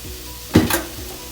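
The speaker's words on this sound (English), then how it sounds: "Get your pan nice and hot. Straight in with your onion." Chopped onion hitting a tablespoon of hot oil in a pan for katsu sauce, giving one brief loud burst of crackling sizzle that fades quickly into low background hiss.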